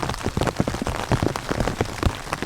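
Steady rain patters densely on a taut tent surface nearby on a mountain ridge at about 35 degrees, an uneven drumming of drops with no voices.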